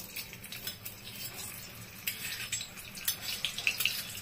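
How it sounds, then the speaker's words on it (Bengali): Paneer frying in butter in a pan, a light continuous sizzle with occasional scraping and clinks of a utensil against the pan. "পনিরটা ভাজার সময় একটু বাটার দেব।"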